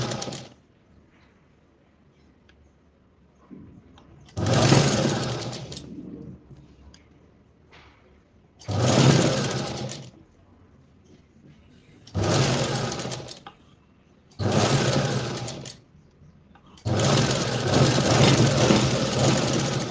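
A sewing machine stitches a strip onto a princess blouse in a series of short bursts. There are about six runs of rapid mechanical whirring, each separated by quiet pauses, with the last run lasting longest.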